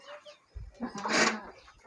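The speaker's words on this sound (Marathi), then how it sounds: "किती मस्त कोंबड्या" Hens on a poultry farm make a brief burst of clucking, close and moderately loud, lasting under two seconds.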